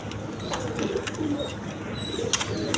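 Pigeons coo in low, throaty murmurs close by, several birds overlapping in a steady, rolling rhythm, with a few faint chirps and rustles around them.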